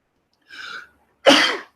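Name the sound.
sneeze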